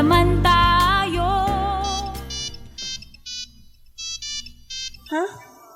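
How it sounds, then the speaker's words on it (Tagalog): A mobile phone text message ringtone plays in a Filipino radio drama, a bright repeating melodic chime of short beeps that starts over a loud music bed and continues alone in brief bursts, followed by a rising voice. "Text ni Bruce?"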